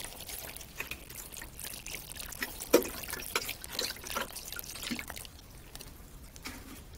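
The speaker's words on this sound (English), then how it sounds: "now I got some bigger containers, which I'm also going to water" Water pouring and splashing into large containers holding dried-out citrus trees, a steady soft trickle with scattered drips and one sharper splash, fairly faint.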